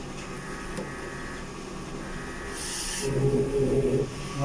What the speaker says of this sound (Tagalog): Ito naman po ang nozzle test.